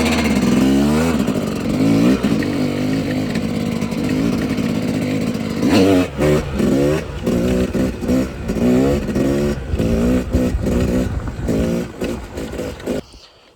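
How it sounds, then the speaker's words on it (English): Dirt bike engine revving hard as the clutch is popped for a wheelie, a loud continuous motor roar with rapid throttle blips and surging rises, close and alone without talk. "I throw myself back into the bike and pop the clutch"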